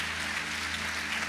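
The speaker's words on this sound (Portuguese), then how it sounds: "Você pode dar um aplauso ao Senhor nessa noite" A church congregation applauds in a soft, even patter of clapping that stays steady and fairly distant over a low hum.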